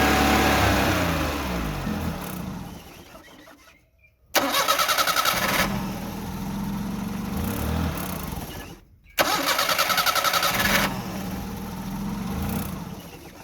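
Maruti 800 carburetor engine cranking and firing up, then racing in repeated revs, cutting out twice and restarting with a sharp burst, loud and close with no talk.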